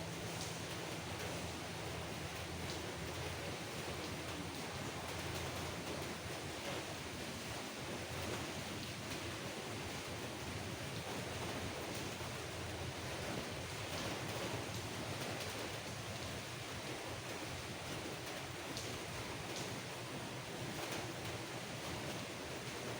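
Rain pours down around a rural garden house in Nong Bua Lamphu, Thailand, a constant wash of hissing patter with some low rumble, steady and unbroken without any voices.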